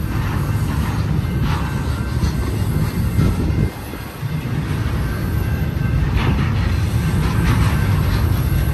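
A BNSF freight train led by an SD70ACe and a Dash 9 locomotive rolls past a grade crossing, a loud continuous rumble of wheels and cars with a brief dip midway, close by and without talk.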